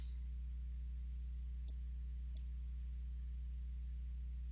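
A computer mouse clicks twice, sharp and close, about a second apart, over a quiet, steady electrical hum.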